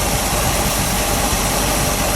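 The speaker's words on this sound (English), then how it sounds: "Yeah, it's a brand new engine. Probably doesn't even have 50 miles on it. Yeah, it started right up and sounds pretty good." A 1970 AMC Javelin SST with a brand-new upgraded engine idles loudly and steadily up close, a dense rumbling drone with a slight uneven shake and no talking over it.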